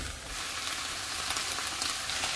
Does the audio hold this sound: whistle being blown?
no